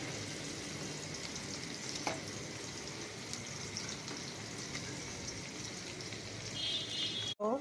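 Onion frying in a pan gives a steady, soft sizzle at close range, with a few faint crackles and a brief clatter near the end.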